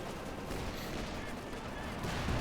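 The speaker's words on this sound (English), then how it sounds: "Infantry getting hammered by the artillery" Artillery shells and gunfire pound infantry in Company of Heroes 2, with a Panther tank nearby, a dense, continuous barrage of crackling shots and booms throughout, with no clear pauses.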